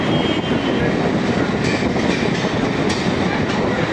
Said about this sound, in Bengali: ট্রেন এখন ফিরে চলেছে কৃষ্ণনগরের দিকে